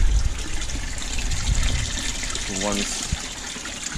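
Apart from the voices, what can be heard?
water filling up an aquarium sump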